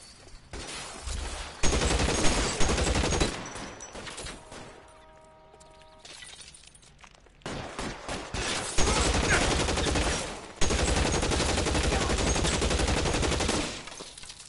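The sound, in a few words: gunfire in the video game L.A. Noire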